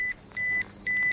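A handheld radiation detector held near radioactive ground in the Chernobyl exclusion zone gives a rapid run of sharp electronic beeps, three or four close, clear tones in about a second.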